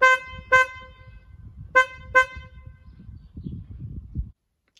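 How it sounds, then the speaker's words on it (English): Four short horn honks from a Nissan Qashqai J11, G11A version, in two quick pairs, with a thin, weak tone, followed by faint background noise. "So this is what the horn on the G11A"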